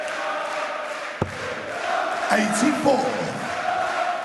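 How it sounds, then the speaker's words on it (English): A German darts crowd chants Stand Up If You Love the Darts, a roaring, sustained communal singing filling the arena, with a single sharp knock early and a brief announcer's call. "the German crowd give us the first rendition of Stand Up If You Love the Darts of the evening"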